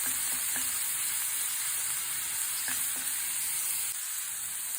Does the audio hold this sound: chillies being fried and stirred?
yes